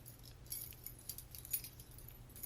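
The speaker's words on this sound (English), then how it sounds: "Keys in my hand and I'm like this." A bunch of keys jangles in a hand, faint light metallic clinks coming in small irregular bursts over a quiet background, with no talking.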